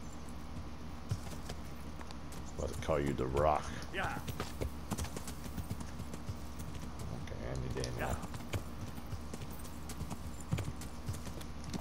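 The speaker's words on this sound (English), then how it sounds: "I'm on a horse." Hooves clip-clop in a steady rhythm as a horse is ridden in the medieval video game Kingdom Come Deliverance, fairly quiet under occasional speech.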